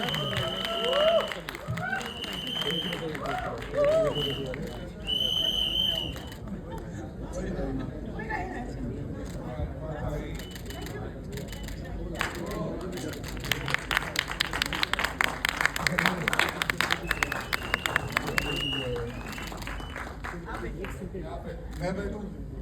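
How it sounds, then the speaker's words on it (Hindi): Audience applause for Farida Jalal at a film song launch event, scattered clapping and crowd chatter that swell into denser, louder clapping in the latter half, with voices talking over it. "जोरदार तालियां फरीदा जलाल जी के लिए।"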